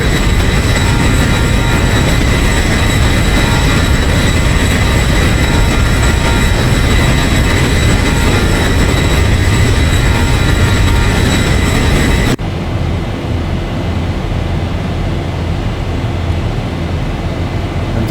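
Boeing 737-800 jet engines running after startup, a loud, steady, close roar with high whining tones that drops abruptly to a lower, duller rumble near the end.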